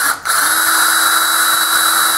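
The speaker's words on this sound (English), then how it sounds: "you're going to drill a hole right there" A power drill whirs steadily at high speed after a brief start, drilling a hole in a plastic socket rail, a continuous close, loud mechanical whine with no pauses.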